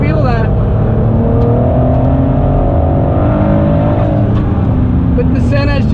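A Ford GT's engine drones loudly from inside the cabin on the Nürburgring, its rising note breaking as it downshifts toward second gear for a hairpin, with the speaker talking over it.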